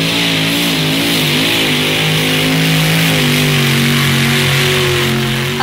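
A tractor engine revs hard at a tractor pull in Napa County, a loud, sustained roar whose pitch climbs steadily with no break.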